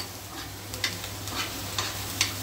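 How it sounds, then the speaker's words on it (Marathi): A white sauce pasta mixture with black pepper fries and gets stirred in a pan, a soft steady sizzle punctuated by a few light scraping stirs. "आता हे सगळं एकजीव भाजून घ्यायचं आहे चांगलं।"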